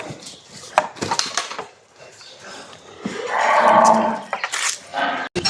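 A large cow at a dairy farm in Sirajdikhan lets out one drawn-out, low moo amid clattering and knocking sounds, with people talking nearby.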